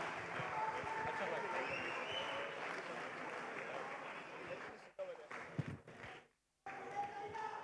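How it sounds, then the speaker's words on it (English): Audience applause for fighter Sylvester Silva of LFG Combat Club at a KFL fight event, steady crowd clapping that thins and briefly drops out near the end, with an announcer's voice over it. "another round of applause please for Sylvester Silva"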